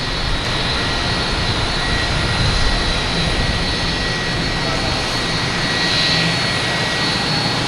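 Jet engines of a JetBlue airliner in special Super Mario livery roar steadily at Boston Logan Airport, a loud, continuous broadband whine and rush held for several seconds with no break.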